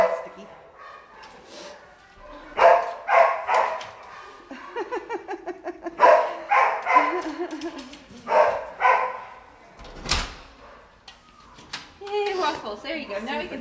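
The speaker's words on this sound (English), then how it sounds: "I think it's going to get a little barky" Dogs barking in an animal shelter, repeated bursts of loud nearby barks and yips with some whimpering, mixed with people talking.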